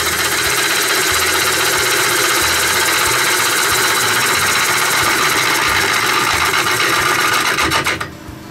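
A large beech salad bowl spinning on a VB36 wood lathe gives a steady, loud motor hum with continuous cutting hiss and faint rhythmic thumping throughout, easing off abruptly near the end.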